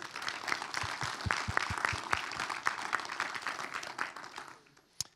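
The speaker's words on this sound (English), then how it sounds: "So I'd like to start off with a great applause for the guys who will be standing here." A conference audience claps for several seconds, a dense patter of hands that fades away, ending with one sharp final clap.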